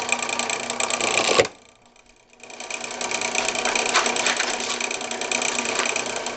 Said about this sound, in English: Now I'm going to put this here in my carborundum block and put it up against this rubber wheel.